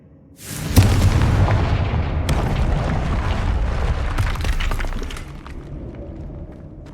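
A Confringo explosion spell goes off in Hogwarts Legacy: a sudden loud boom with a sharp shattering attack, then a long, dense rumbling blast that holds for several seconds before fading, and no voices.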